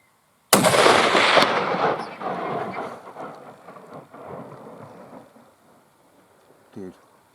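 A single loud rifle shot from a 300 Winchester Magnum firing a DRT 175 grain load during a wild boar hunt booms outdoors, then rolls away in a long fading echo, with a brief murmur near the end.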